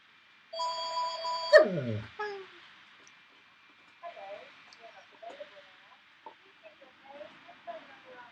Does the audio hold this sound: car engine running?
no